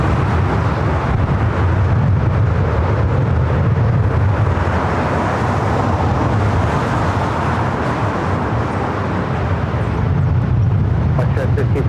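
A jet airliner rolls on an LAX runway, a loud continuous low roar building and rumbling steadily throughout, heard from close range outdoors.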